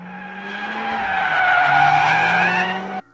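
Mercedes-AMG A45 S 2019 compact sliding in drift mode, with a loud, sustained tire squeal alongside a steady engine note that runs for about three seconds and then cuts off abruptly.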